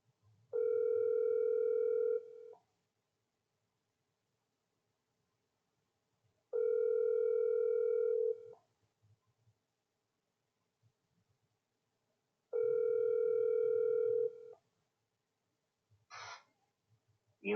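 A phone call rings out unanswered before going to voicemail: three long, evenly spaced ringback tones about two seconds each, separated by silence, clear and close, followed by a brief faint sound at the end.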